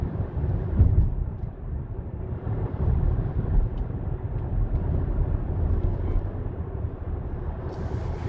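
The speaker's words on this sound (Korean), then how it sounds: "스포츠 모드로 차를 좀 몰아붙이면서도 달려봤어요" A Hyundai Kona with a 1.6-litre four-cylinder turbo gasoline engine and front-wheel drive is pushed hard in sport mode, giving a steady low engine and road roar with wind rush throughout, heard from inside the car without talk.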